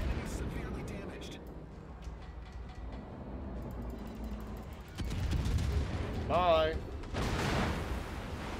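Naval gunfire and explosions from a World of Warships battle, with heavy rumbling blasts and broadband bursts that swell in the second half, mixed with a whistling tonal effect and someone talking over the game.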